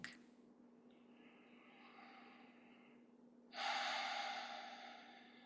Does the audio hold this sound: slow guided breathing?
yes